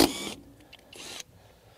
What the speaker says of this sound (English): Now I'm going to use a little impact wrench